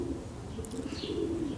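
Pigeons or doves coo softly at a garden feeder, low repeated calls over a steady outdoor background, with a faint high chirp partway through.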